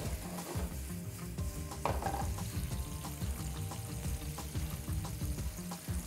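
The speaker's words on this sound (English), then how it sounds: "So move it around a little bit, make sure all the pieces are flat down on the pan." Pasta ingredients frying in a pan, a steady low sizzle with scraping and stirring as pieces are moved around, close and without speech.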